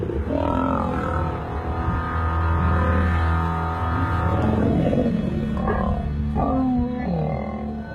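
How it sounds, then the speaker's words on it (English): A male lion roars during a violent fight in the Sabi Sand reserve, long, deep, loud guttural roars and growls repeating close by across the whole stretch. "Kinky Tail roared while he was doing the damage"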